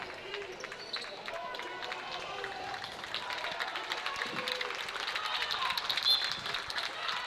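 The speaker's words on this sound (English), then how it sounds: "Crowd giving a hand for Preston starters" A gym crowd at a Preston girls basketball game claps for the Preston starters, a steady wash of applause that swells toward the end, with a commentator talking over it.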